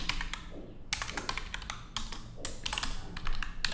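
Close-up typing on a computer keyboard while coding a Laravel web app, with bursts of rapid key taps separated by short pauses and no speech.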